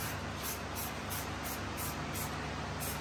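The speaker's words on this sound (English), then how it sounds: "Let Chandler show his artistic abilities right here with a can of white spray paint" White spray paint hissing from an aerosol can in a string of short, rhythmic bursts, close and fairly quiet, with no talking.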